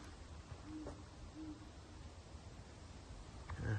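An owl hooting in Massachusetts woods, a few soft, brief hoots that sound distant and faint above a steady outdoor background hiss.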